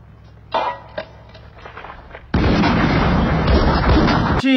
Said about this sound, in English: But it's like an RPG gun.